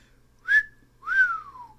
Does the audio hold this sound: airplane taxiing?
no